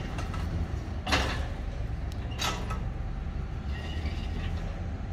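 On a Cow Catcher 4700 vet crush for cattle, the sliding gate gives two rattling metallic clanks about a second apart over a steady mechanical rumble.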